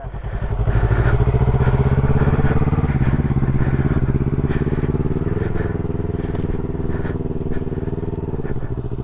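A motorcycle engine runs close by with a steady, throbbing idle that rises slightly as throttle is applied, then settles into a constant rumble.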